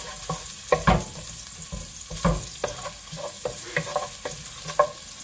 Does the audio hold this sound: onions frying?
yes